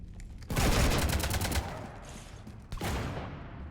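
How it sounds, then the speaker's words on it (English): Rapid automatic gunfire in the sci-fi shooter Mass Effect 3, a loud close burst of shots, a brief lull, then another burst, with no talking. "You want to stop shooting up my ship?"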